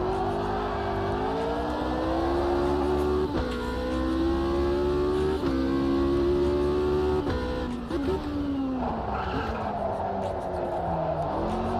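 A race car engine in a racing video game revs hard and climbs through the gears, with repeated rising whines broken by sharp shifts, loud and continuous, while a voice talks now and then underneath.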